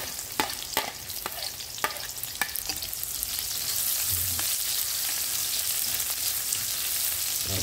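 Garlic sautéing in a pan, first with a series of sharp spoon or spatula clicks against the pan, then settling into a loud, steady sizzle and hiss, no talking.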